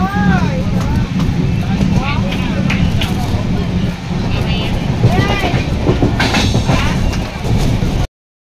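A passenger train runs along the rails with a loud, continuous rumble, rhythmic clatter and bursts of wheel squeal, heard from inside the carriage before the sound cuts off abruptly.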